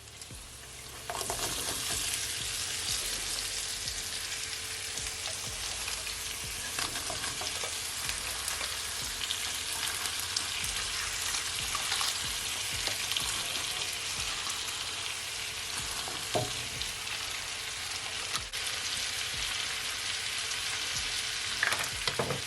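Shredded cabbage sizzles and crackles steadily in a hot frying pan, a dense, continuous fry noise close by with occasional stirring clicks, no voices over it.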